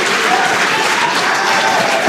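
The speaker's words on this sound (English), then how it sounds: "I have a feeling the crowd is about to go wild." Crowd applause and cheering at the moment of the Polaris Dawn spacewalk, a dense steady roar of clapping filling the whole stretch without break.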